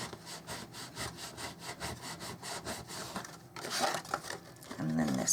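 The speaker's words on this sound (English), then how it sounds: "And then you're going to give it a burnish." A folded card corner being burnished, quick regular rubbing strokes close by, followed by a louder scraping push near the end.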